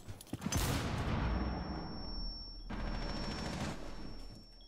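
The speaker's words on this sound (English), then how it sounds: "Where am I getting shot from?" Gunfire in a first-person shooter: a close, loud burst of rapid shots around the first second fades into a decaying tail. A second volley follows near three seconds, with no talking.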